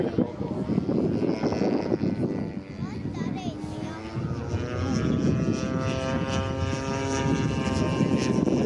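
A scale model propeller airplane drones steadily overhead at a flying day, its engine tone rising and sliding in pitch as it passes, with people talking in the background throughout.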